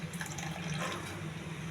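Boiled tamarind juice pours into a pot of eggplant and okra, a short soft splashing trickle of liquid close by, fairly quiet, ending with a faint clink.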